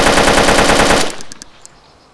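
An AKS-74U rifle in DayZ fires a rapid burst of about ten loud, close shots in an even rhythm, then stops as the echo quickly fades and a few faint metallic clinks follow.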